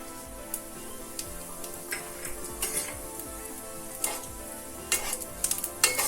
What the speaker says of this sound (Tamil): ஆயில் ஆட் பண்ணதுக்கப்புறம் கொஞ்சம் சீரகம் போட்டுக்கலாம்.